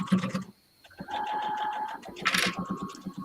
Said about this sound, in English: I'm going to use a straight stitch to sew both the flap and the pouch.